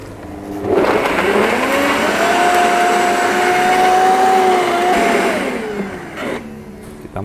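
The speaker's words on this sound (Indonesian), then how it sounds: "lalu kita blender hingga betul-betul lembut" A kitchen blender grinds kluwak, coriander, cumin and a little broth into paste for rawon, a loud steady whirring motor that starts abruptly, holds for several seconds with a slight pitch shift, then winds down.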